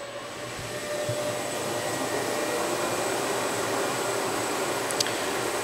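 A Kundig 53-inch duplex wide belt sander running with its second sanding head started: a steady, even mechanical whir and broadband rush with a faint tone, moderately loud and unbroken throughout, with no voices.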